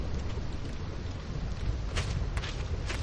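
Storm ambience from a Final Fantasy game, with steady rain hissing and low rumbling thunder rolling continuously underneath, fairly loud throughout with a few brighter gusts.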